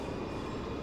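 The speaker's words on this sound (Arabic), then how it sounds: "هذا قطار مستمر. شوف قطار مستمر." A continuous passing train in the Train Station Simulator video game, heard as a steady broadband rumble with no breaks over a very short moment.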